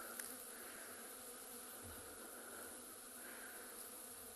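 Bees swarm over a piece of quartz outdoors on an African safari, giving a steady, faint, continuous insect buzz with no voices.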